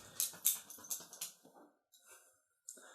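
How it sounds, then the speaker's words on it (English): A dog let into a room whines and yelps in a string of sharp, close bursts, breaking off into short pauses before one more high cry at the end. "The dog was just let into the room and immediately starts making noise."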